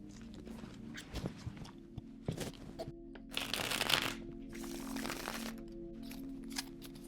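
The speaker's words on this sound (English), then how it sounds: "let's shuffle these cards here and see" Tarot cards are shuffled by hand during a reading. Soft taps and handling noises come first, then dense papery riffling bursts in the middle and later part, close and fairly quiet.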